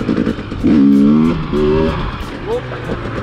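A dirt bike engine revs up and drops off in several surges as the rider practises wheelies. The engine is close and loud, with rising and falling pitch, and someone talks over it.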